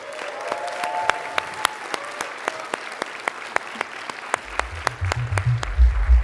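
A few individual claps, sparse and evenly spaced, come from an audience welcoming a speaker onto a stage, and a low rumble of the room joins in near the end.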